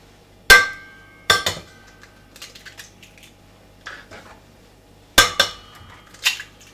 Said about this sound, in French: Nous allons prendre 4 œufs et nous allons les casser.